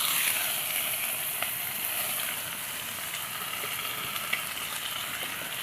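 Chopped onion, curry leaves and mustard seeds fry in hot oil for a South Indian beetroot thoran, giving a steady, close, continuous sizzle with a soft crackle and an occasional light tap, and no voices.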